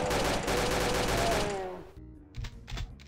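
Doom II chaingunners fire a rapid, dense stream of gunshots for about a second and a half, which then cuts off into a few scattered clicks and thuds.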